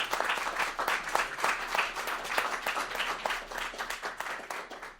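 Steady applause from an audience, dense clapping sustained throughout at a fairly even level.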